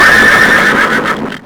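A horse whinnies loudly and alone, one drawn-out, quavering neigh that holds steady for over a second and then trails off, with faint hoof clatter in the background.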